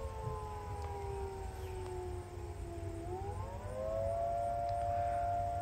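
A fire call siren test sounds outdoors in Macedon, NY, on a hot summer day: a loud, sustained wailing tone slowly sinks in pitch, then swings back up and holds steady over constant background ambience.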